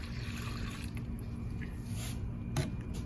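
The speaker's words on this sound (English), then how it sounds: "So we're gonna add water" Water trickles and drips faintly into a container as it is filled before plaster is mixed for solid flask investment molding, with a brief louder splash near the end.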